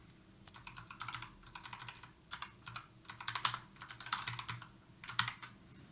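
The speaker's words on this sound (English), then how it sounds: "Keyboard, it's Razer Huntsman, but any keyboard works actually to program." Typing on a Razer Huntsman mechanical keyboard, rapid bursts of sharp clicky keystrokes in uneven clusters with short pauses between them, close and clear with no talk.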